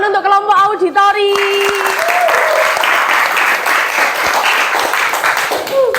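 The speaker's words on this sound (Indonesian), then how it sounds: "Tepuk tangan untuk kelompok auditori." A classroom group claps for the auditory-learning team in a school counseling session, a steady burst of applause lasting several seconds after a brief spoken line.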